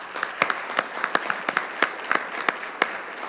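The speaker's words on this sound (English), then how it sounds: "Let's give them all a big round of applause." A school board meeting audience applauds all-region athletes gathered for a group photo, with moderate, steady clapping and individual sharp claps standing out through the room.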